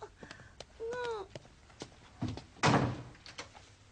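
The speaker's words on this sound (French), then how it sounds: "on a entendu la porte d'entrée" A front door thuds shut with a solid knock near the end, after scattered clicks and handling sounds, while a voice briefly speaks over the movement.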